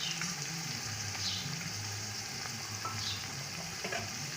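Ginger, green chili paste and tomatoes fry for mutton biryani, giving a steady close sizzle with occasional scraping stirs and no talking.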